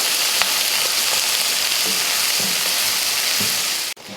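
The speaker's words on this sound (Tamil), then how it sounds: "எண்ணெய் காஞ்சதுமே கடுகுளுந்து, வெங்காயம் 1, பச்சை மிளகாய், கொஞ்சம் கருவேப்பிலை போட்டு இதை வதக்கிடலாம்" Onion, green chili and curry leaves with mustard seeds sizzle steadily in hot oil, a close continuous frying hiss with occasional soft stirring scrapes, ending in a brief clatter.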